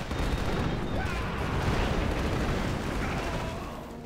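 An artillery battery fires in the 2004 strategy game Axis & Allies, producing a continuous rumbling barrage of booms and blasts blended into dense battlefield noise, loud and sustained throughout.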